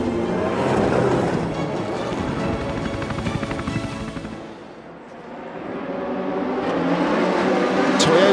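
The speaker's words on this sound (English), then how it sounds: "We have started the formation lap for the 6 hours of Spa." Endurance race cars roll around the Spa-Francorchamps circuit on the formation lap of the 2019 6 Hours of Spa, with a loud, continuous engine drone that swells, dips briefly and builds again as the pack passes.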